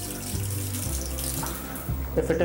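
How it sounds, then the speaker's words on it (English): Running shower water splashes steadily onto a Samsung Galaxy S5 phone, a continuous close hiss and patter of water held at an even level. "Now we are going to wash this phone inside shower."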